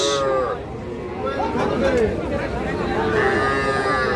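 Young bull calves and heifers at a crowded cattle market, with a calf giving a long, wavering moo and another lowing nearby, close and loud over steady crowd chatter.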